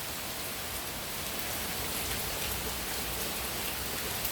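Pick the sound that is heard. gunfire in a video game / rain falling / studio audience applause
rain falling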